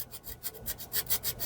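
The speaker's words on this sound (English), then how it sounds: "So I'm going to take the rougher sandpaper because this is kind of peaked." Rough sandpaper rasping by hand over a raised, peaked spot on a vintage composition doll, a close, steady series of short back-and-forth strokes, quiet and alone.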